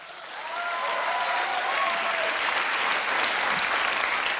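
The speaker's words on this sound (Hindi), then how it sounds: "इस पर तालियां बजाओ।" Audience applause at a motivational speech swells in after a brief moment and continues as a dense, steady wash of clapping from a large crowd, with no voice over it.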